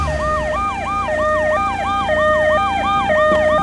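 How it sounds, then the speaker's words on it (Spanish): An ambulance siren wails loud and close in a steady repeating two-tone pattern, each cycle rising and falling about twice a second, with a faint vehicle rumble underneath. "Por ahí viene la ambulancia."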